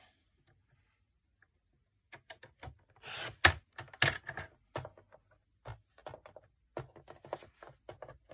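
A thin paper tag being cut down to size: a quiet start, then a run of sharp, crisp snips and ticks of uneven rhythm, close and fairly loud with no talking.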